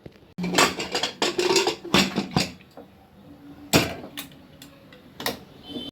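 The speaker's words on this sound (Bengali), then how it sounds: "এবার ঢাকনাটা লাগিয়ে দেওয়া হবে" A lid goes onto a pot of mutton sprinkled with garam masala in a home kitchen, with several sharp metallic clanks and clatters at uneven intervals, loud and close, separated by quiet gaps.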